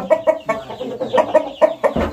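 A rooster of a prized breed gives a close, loud series of short rhythmic clucks, about eight evenly spaced calls in quick succession.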